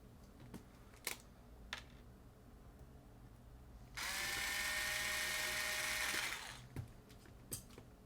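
Screws going into a replacement hard drive for a PS4 console, with scattered small clicks and taps, then a loud continuous whirring burst for about two seconds before more light clicks, no voices.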